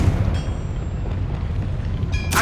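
Confringo blasting spell from Hogwarts Legacy: a loud, continuous fiery roar with a thin ringing tone, ending in a sharp bright burst, with no talking over it.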